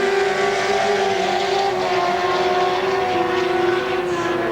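Pro Stock motorcycles at a 2002 drag racing meet in Richmond roar down the strip, one lifting its front wheel, a loud steady high-revving engine wail that holds and shifts pitch slightly without break.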